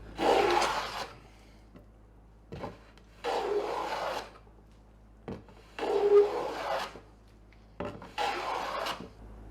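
Homemade plywood edges being trimmed down with a rasping tool, heard as four separate bursts of coarse, close scraping strokes with short pauses between them and no talking.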